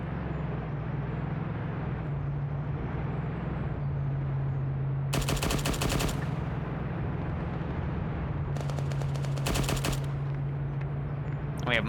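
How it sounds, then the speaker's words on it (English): Several .50 caliber machine guns fire in a military video game, with long dense bursts of rapid automatic fire around the middle and again near the end over a steady rumbling engine drone, loud and continuous. "We have multiple 50s now firing up at him."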